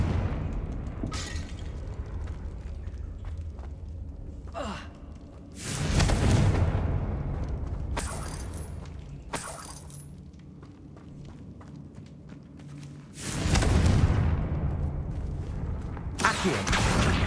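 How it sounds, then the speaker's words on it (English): Fire-blast spells from the Hogwarts Legacy video game burst in heavy booming explosions, two big blasts standing out among smaller thuds, crackles and footsteps, with no talking. "Confringo."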